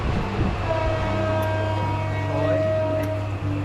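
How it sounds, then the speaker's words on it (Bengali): A train waits at a station in Bangladesh with a steady low mechanical drone and a sustained tonal hum, heard under background voices and platform bustle. "So guys, this is our train."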